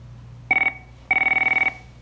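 A telephone line rings during a call placed to a town board meeting, two trilling ring bursts, a short one and then a longer one, clear and close over a low hum, with no talking.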